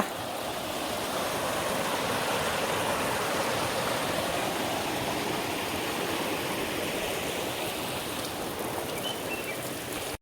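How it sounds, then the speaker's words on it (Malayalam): Water gushing powerfully from a leaking pipe near a waterfall, a dense continuous rushing spray that stays loud and even from start to finish. "അവിടെ പൈപ്പ് ലീക്കാൻ തോന്നുന്നു"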